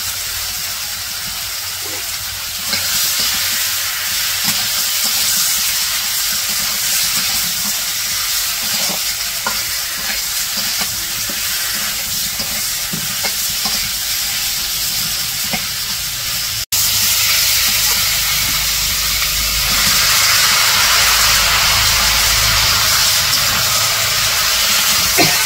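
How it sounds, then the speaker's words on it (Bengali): Fish with salt and spices frying in a pan at a village cooking setting, heard as a loud, continuous sizzling hiss with scattered stirring scrapes, growing louder and brighter in the last third, with no voices. "এখন মাছ দিয়ে দিব, মাছগুলা ভালো করে কষে নেব।"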